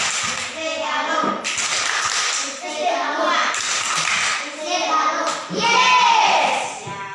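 Schoolchildren in a class doing their SD Galong class clap, with rhythmic hand claps in bursts mixed with loud chanting children's voices.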